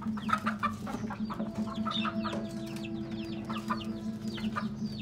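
Chickens cluck steadily over a constant low hum, with several short clucks overlapping and a rooster-like call in the mix, close by and moderately loud.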